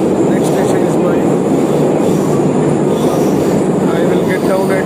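Baku underground metro train running, a loud continuous roar and rumble of wheels and carriage filling the whole stretch, with faint speech beneath.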